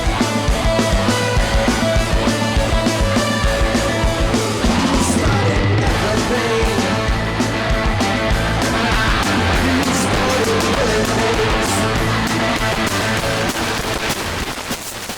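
Dense, harsh distorted music with a heavily saturated, crunchy tone from a Machinehead saturation effect, loud and continuous for the whole stretch.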